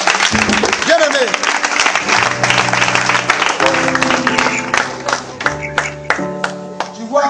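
A church congregation claps in praise of the Lord, a bright crackle of many hands over sustained music and voices, the clapping growing into distinct rhythmic beats toward the end.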